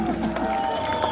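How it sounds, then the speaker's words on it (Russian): Crowd applause and cheering at an outdoor Victory Day concert by a monument in Riga, a steady dense wash of clapping lasting about a second under a sustained musical tone. "Ваши бурные аплодисменты!"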